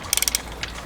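A 14mm socket wrench ratchets on the belt tensioner of an FR-S with rod knock, making five quick, close metallic clicks and then one softer click.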